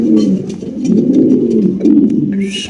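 Fancy pigeons kept in cages at a market coo in a loud, close, low rolling series of repeated calls, with a brief brighter rustle or flutter near the end and no talk.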